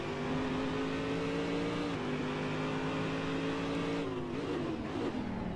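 A Corvette DP race car in Assetto Corsa howls at high revs, loud and close. The tonal engine note dips at two gear changes, then settles into a steady, sustained drone.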